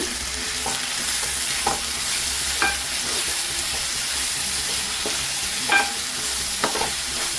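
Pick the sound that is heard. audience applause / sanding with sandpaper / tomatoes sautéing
tomatoes sautéing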